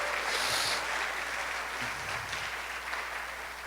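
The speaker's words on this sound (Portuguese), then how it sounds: "Dê uma salva de palmas para esses homens maravilhosos." Applause from a church congregation, a steady broadband wash of many hands clapping at moderate distance, fairly even throughout with no speech over it.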